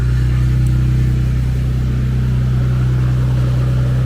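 Infiniti Q50 widebody with all four wheels spinning in place, its engine holding a steady, loud low drone with a constant hum and no change in pitch.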